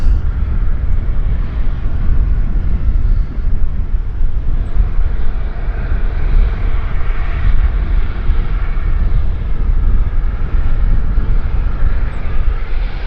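A heavy Embraer jet climbing away after takeoff at Vancouver airport, heard as a steady, continuous engine roar that holds at a fairly loud level throughout, with no voices over it.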